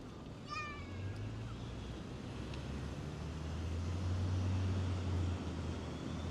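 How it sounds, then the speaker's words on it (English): Wind at Lincoln Center on New York's Upper West Side rumbles and buffets low and steady, swelling louder toward the end, with faint distant whistling tones early on. "It's quite windy today, though."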